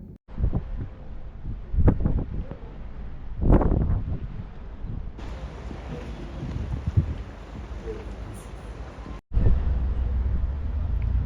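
Gusty wind buffets the microphone at the Kotor cruise port in Montenegro, with heavy rumbling bursts and then a steadier roar, close and fairly loud, broken by a brief cut near the end.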